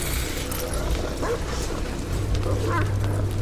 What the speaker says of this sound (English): The dog probably has been injured, that's why it was crying.